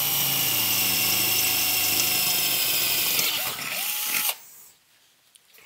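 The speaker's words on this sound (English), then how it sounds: "Come in here and drill this." A power drill bores a 1/4 inch hole while building a tube amplifier headphone adapter, whirring steadily up close for about four seconds before spinning down and stopping, leaving near quiet.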